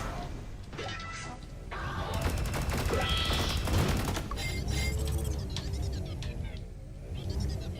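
Sublevel Zero railgun fire crackles and shatters in rapid bursts, loud and dense with metallic impacts and mechanical clatter throughout.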